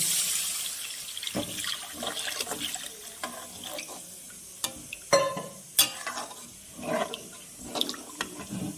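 Water is poured into cooked spice masala for a fish curry, giving a gushing splash and a bubbling sizzle with a few sharp bursts, fairly quiet overall and with no voices.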